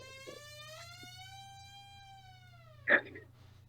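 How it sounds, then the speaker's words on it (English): A faint, sustained electronic tone holds steady for a couple of seconds, then a short thump follows in a quiet room. "Sorry, something is beeping."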